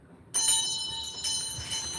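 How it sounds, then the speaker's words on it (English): A metal bell is struck twice, each strike a bright, ringing tone that lingers and slowly fades, heard close and clear with no talk. "Let's ring a bell."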